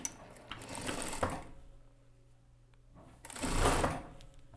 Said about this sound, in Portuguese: Vou reservar aqui e vou costurar aqui o forro das costas.